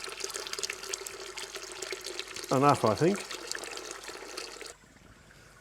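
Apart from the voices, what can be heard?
water poured over grain to sparge when brewing beer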